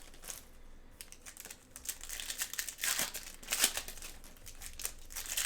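Bowman Chrome football card pack wrappers are torn open quickly, giving close, bursty crinkling and tearing with irregular crackles and rustles that build toward the end.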